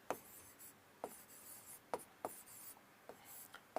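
Short scratchy strokes of writing on a board, spaced a fraction of a second to a second apart, faint and close against a quiet room.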